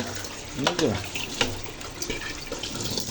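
Food rinsed by hand under running tap water, likely cooked rice: a close, steady splashing gush with sloshing swells as the food is swished, lasting a few seconds.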